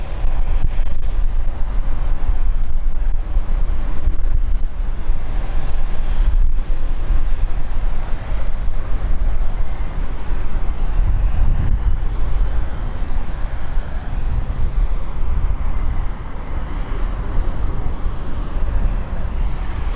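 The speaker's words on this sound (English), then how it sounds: "Engines are going to start up." Airbus A220 jet engines spooling up at London City Airport, a loud, steady, broad roar with a deep rumble and gusts of wind noise lasting throughout.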